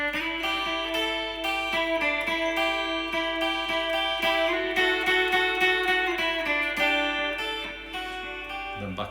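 Electric guitar playing the second part of the riff, a steady ringing, chiming melodic pattern held at even level throughout with no talking over it.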